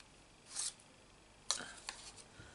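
Scissors cutting paper shapes for a stamped card, a few brief snipping and rustling sounds, close but soft in a quiet room.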